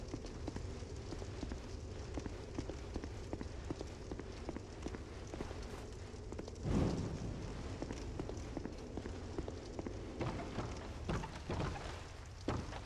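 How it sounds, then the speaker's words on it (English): Footsteps in the Dark Souls 2 video game at No Man's Wharf, steady soft thuds under a constant low ambient rumble, with a heavier impact midway. "Heard footsteps."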